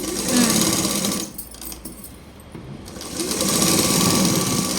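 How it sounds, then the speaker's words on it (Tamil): An electric sewing machine stitches a blouse sleeve seam with a loud, fast mechanical whir and rattle, close by. It slows and softens briefly in the middle, then runs at full speed again, with no talking. "நம்ம தையல் எப்படி போடுறோன்னு பாருங்கள், தெரியுதா?"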